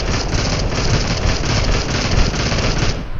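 Shotgun fire in the mobile battle-royale game PUBG Mobile comes as a loud, dense barrage of rapid shots, cracking continuously for about three seconds with no talking.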